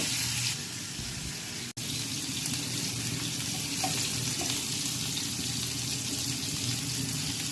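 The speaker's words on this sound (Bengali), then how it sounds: "এই যে মাছগুলো দিয়ে দিলাম ভেজে নেব" Rohu fish pieces rubbed with turmeric, salt and chili hit hot oil and fry with a dense, continuous hiss and crackle. The sound is close and steady, with one brief dropout near the start and no voices.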